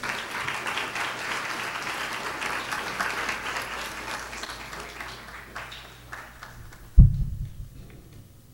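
An audience applauds for a speaker coming to the podium at an interfaith iftar gathering, steady dense clapping that fades out, followed by a thump and some shuffling.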